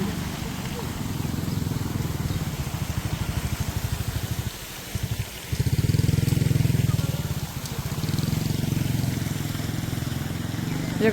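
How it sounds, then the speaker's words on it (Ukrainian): A moped rides through a park beside a mosaic fountain in Marrakesh's Hivernage district, its small engine buzzing steadily nearby. The motor briefly dips, then swells louder as it passes, under faint background noise. "Як бачите, мопеди навіть через парк їздять."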